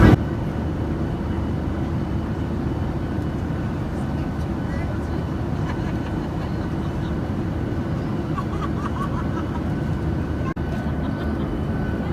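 Steady low roar of a Jet2 Boeing 737-800 cabin in flight from Manchester to Antalya, a continuous broadband engine and airflow drone filling the whole stretch with faint cabin noises over it.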